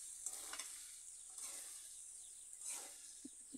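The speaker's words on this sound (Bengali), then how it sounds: "এভাবে কিছুক্ষণ পর পর লাড়িয়ে চাড়িয়ে এই কাঁচা টমেটো ভালো করে রান্না করে নিতে হবে।" Raw green tomatoes cook in a pan with a soft, steady sizzle, while a few scrapes of stirring come and go and a light knock sounds near the end.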